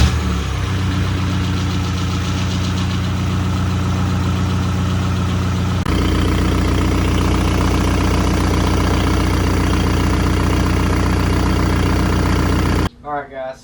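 Diesel car engine idling after a restart while a coolant leak is being checked, a steady low rumble with a rough mechanical clatter running loud and close for about thirteen seconds before it cuts off abruptly, followed by a brief quieter noise.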